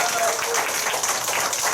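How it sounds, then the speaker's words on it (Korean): Audience applause at a women's committee workshop in Dongjak, a dense, steady wash of many hands clapping that fills the whole moment at an even level. "이왕에 치신박수라면 크게 좀 쳐주십시오"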